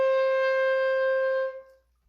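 A single sustained high-register clarinet note, bright and steady with strong harmonics, held for about a second and a half before it cuts off and the room falls silent, played alone and close.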